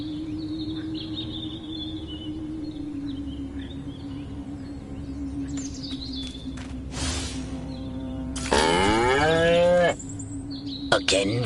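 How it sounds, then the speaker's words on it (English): Cattle mooing in the Destroy All Humans video game: one long, low, drawn-out moo that holds steady and loud, followed by a sharp rising electronic sweep and a few game blips. "Again with the moo?"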